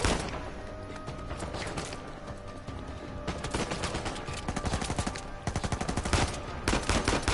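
Rapid gunfire during a firefight in the video game Uncharted 4, dense bursts of automatic shots and single cracks layered over continuous game sound, loud and close from start to finish.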